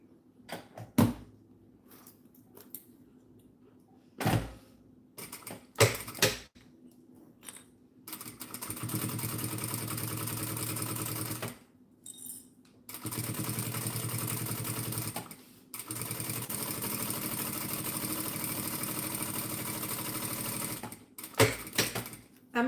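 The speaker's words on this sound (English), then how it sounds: "I'm stitching at 1/8 of an inch." A sewing machine stitches clear vinyl about 1/8 inch from a pink edge, whirring in several sustained runs of a few seconds each, broken by short pauses and scattered clicks.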